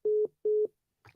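After a dropped phone call, two identical steady electronic beeps ring out, each about a quarter second, evenly spaced, loud and clean, then a brief garbled burst.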